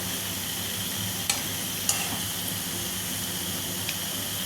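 Food fries in oil with a dense, steady hiss and crackle, and a few faint clicks of a utensil.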